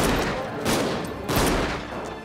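A burst of loud, rapid gunfire with several sharp cracks cutting through a dense, noisy background.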